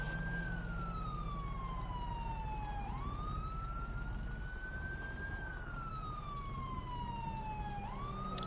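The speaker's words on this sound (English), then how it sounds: "Got a siren going still." A police car siren in a video game wails, sweeping slowly up and down, steady and fairly distant over a low engine rumble.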